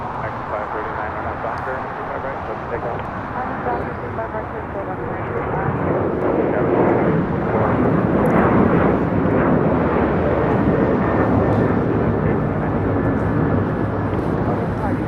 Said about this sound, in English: Taking off to Chicago O'Hare, but on a 737-900ER.